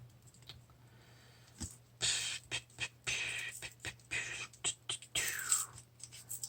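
Christmas presents being unwrapped with fingernails, close bursts of crinkling and tearing paper with scratchy clicks, irregular and fairly soft against a low background hum.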